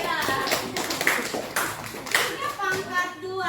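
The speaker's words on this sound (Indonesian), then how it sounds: "Oke, tepuk tangan dulu untuk Tia Aisyah." A classroom of students claps for a classmate during a math lesson, scattered and uneven hand claps rising and falling in bursts, with children's voices mixed in.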